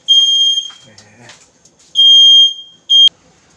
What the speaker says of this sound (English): excuse the stupid alarm